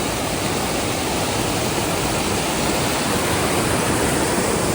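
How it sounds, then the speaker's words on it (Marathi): A small waterfall sends water rushing in a loud, dense, unbroken roar close by, filling the whole scene with no voices. "मिनी धबधबा."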